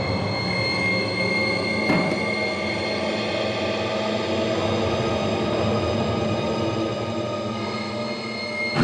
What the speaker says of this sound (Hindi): ट्रेन के जाने की आवाज, ट्रेन के हॉर्न की आवाज